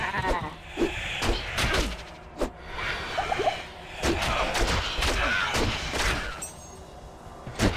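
Goats bleating in the video game Diablo II, a few short bleats scattered among thuds and combat clatter, fairly loud with no talk over them.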